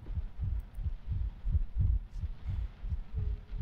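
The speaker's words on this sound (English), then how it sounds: "Why is your heart beating so fast" A heavy thumping heartbeat in the horror game Layers of Fear beats low and steady, about two and a half beats per second. It is alone and close, with no talking.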